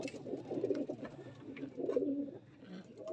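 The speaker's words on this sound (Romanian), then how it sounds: "Porumbel foarte frumos." A racing pigeon coos close by in soft, throaty rolling phrases, two or three low bursts repeating over a quiet background.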